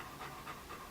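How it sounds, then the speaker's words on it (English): A dog pants nearby, quick rhythmic breaths about every quarter second, faint but steady with no talk. "It's my dog panting."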